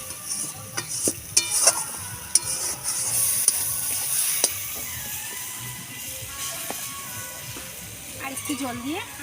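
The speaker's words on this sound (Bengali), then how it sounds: "মশলাটা কষিয়ে নিই" Spiced masala paste with salt and Kashmiri chilli being sautéed and stirred in a pan while cooking a festive bhog meal, a steady close sizzle with intermittent scraping clatter of the spoon, continuing throughout under faint background sounds.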